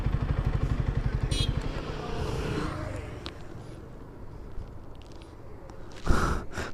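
A modified motorcycle passes on a road during a ride toward Ooty. Its engine throbs in quick low pulses at first, then fades into a steady road rush, and a brief louder swell comes near the end.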